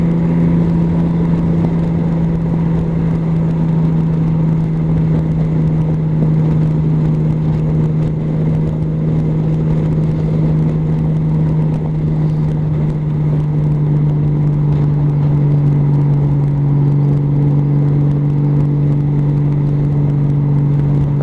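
A Honda Valkyrie motorcycle engine runs steadily while being ridden at cruising speed, after major repairs, giving a loud continuous drone with a strong low hum that shifts slightly in pitch, close and without talk.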